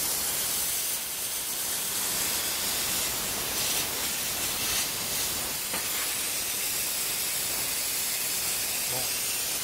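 Thin sheet-metal box being cut continuously, giving a steady broadband hiss with a faint rasp that holds for the whole stretch at a constant level, and no voices over it.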